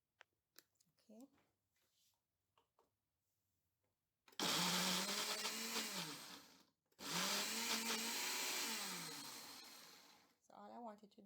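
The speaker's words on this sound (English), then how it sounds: "So my smoothie blender is over here." A smoothie blender roars in two loud bursts a few seconds each, crushing ice and fruit, with a short pause between, after some quiet handling sounds.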